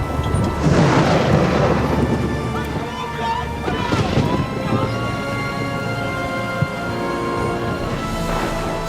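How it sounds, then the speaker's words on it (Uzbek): Rumbling thunder rolls through a storm over a lake, heavy rain hissing underneath, with a bigger crash near the middle and another swell at the end. "Qattiq bo'ron chiqib, ko'lda to'lqin ko'tarilyotdi."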